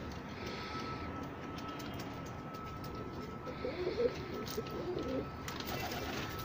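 Pigeons coo softly in a loft, with low murmuring calls rising in the middle amid a steady background hum and faint shuffling, with no clear talk.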